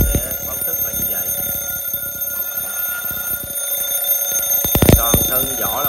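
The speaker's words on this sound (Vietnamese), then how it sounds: "Và em sẽ quay nó để báo thức là như vậy." Brass-bodied wind-up alarm clock with a turn knob set off, giving a loud continuous metallic ringing that fills the whole stretch, with a brief louder burst near the end.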